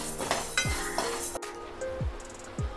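Wheat grains roasting in a hot pan while being stirred, with light clinks and scrapes of the spoon against the pan and a soft, steady sizzle and rattle of the grains, close and with no talking.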